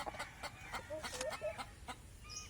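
A Rhode Island Red mother hen, brooding on eggs, gives a run of close, short clucks in steady bursts, with a faint higher chirp near the end over low farmyard background noise.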